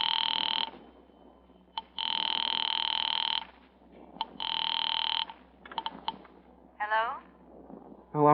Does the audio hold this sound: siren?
no